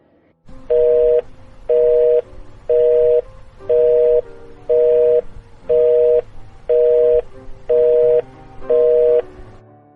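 A loud, repeating telephone disconnected tone after a call is cut off beeps in regular on-off pulses, about nine evenly spaced beeps with no talking.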